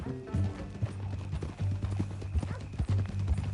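Steady clip-clop of horse hooves at a walking pace in the video game Red Dead Redemption 2, fairly close, with a low rumble underneath and no talking.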